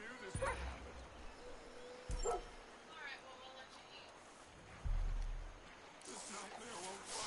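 A dog in the video game Far Cry 5 gives several scattered yips and whimpers at a moderate distance, with a few brief louder thumps, while people talk in the background.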